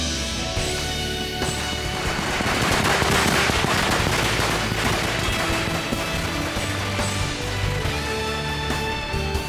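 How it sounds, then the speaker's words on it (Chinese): Celebratory string of firecrackers set off in a Chinese period drama, a loud, dense and unbroken crackle of rapid pops sustained for nearly ten seconds without pause. "放鞭炮吧"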